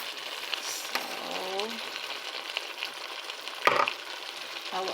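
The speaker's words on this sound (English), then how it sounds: "Now we will mix because our okra is almost done." A spoon stirs fresh okra stew with beef and tomato paste in a sizzling pot, soft scraping and bubbling frying noise with one sharper clank, fairly quiet and close, with a voice speaking briefly.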